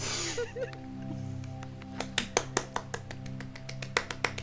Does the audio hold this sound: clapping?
yes